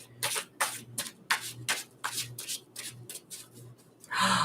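Tarot cards being shuffled by hand in a series of quick riffling bursts, each a short papery rustle, close and moderately loud with a low steady hum underneath and a denser rustle at the end.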